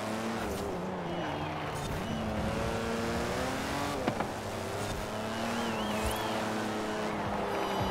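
A Eagle Speedster's engine droning steadily at sustained speed in the racing game Forza Horizon 4, with shifting tonal harmonics and a brief tire or impact noise midway, loud and continuous with no talk.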